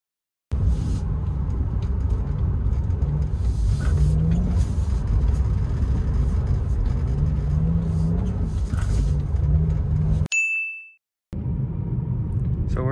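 A BMW with the N54 engine running a low-temperature oil thermostat, driven on a first test drive: a steady low engine and road rumble with occasional clanks, broken by a brief dropout near the end.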